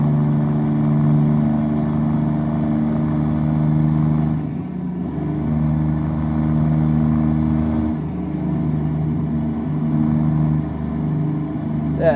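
Simulated truck engine in a trucking simulator game, droning steadily and loudly at low pitch throughout, with slight dips and rises in revs and no break in the sound.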